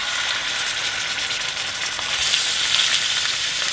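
Ground beef and eggs fry in a pan over a high burner, giving a loud, steady hiss and crackle that brightens slightly toward the end, with no talking.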